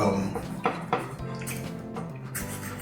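A fork and dishes handled in a kitchen, a few clear clinks and clatters of metal on crockery amid a low background hum.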